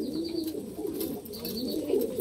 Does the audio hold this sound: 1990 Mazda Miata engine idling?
no